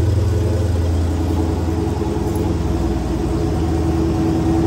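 A 2016 Dodge Challenger Hellcat's 707-horsepower engine idles after a cold start, a loud, steady, deep rumble with a pulsing low throb that holds evenly throughout, no voices over it.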